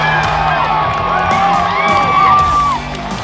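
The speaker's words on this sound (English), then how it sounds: "The crowd is going wild." Sold-out Formula 1 crowd at the Australian Grand Prix in Melbourne roars and cheers wildly, with whoops and shrill whistles rising over a dense, continuous wall of voices, loud and close.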